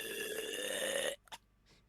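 A loud, drawn-out belch with a rough, buzzing tone carries on for about a second, then cuts off into two short fainter blips and near silence.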